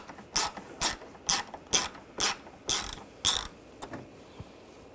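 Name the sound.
ratchet with T30 socket removing screws on Volkswagen Tiguan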